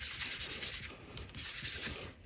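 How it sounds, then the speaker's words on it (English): An embossing buddy rubbed steadily across cardstock, giving a continuous dry, brushing friction close up that pauses briefly partway through, with no talking. "So I'm gonna start with my embossing buddy."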